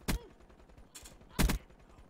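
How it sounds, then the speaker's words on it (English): Gunfire in a video game, two short loud bursts of shots about a second apart with a fainter burst between them. "Somebody's shooting."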